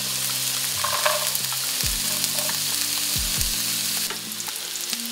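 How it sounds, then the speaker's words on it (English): Celery sautés in avocado oil in a pan for gumbo, a loud, steady sizzle close up, with occasional stirring scrapes and a low hum beneath. "now we start the sauteing, and I'm going to use avocado oil"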